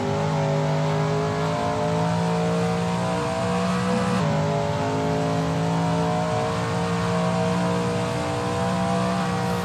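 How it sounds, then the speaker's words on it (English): A Shelby Mustang GT350R in a racing video game, its engine droning loud and constant as it drives through a turn at Willow Springs, the pitch easing slightly before holding steady again. "That ASRL Shelby Mustang GT350R looks good driving through turn 9."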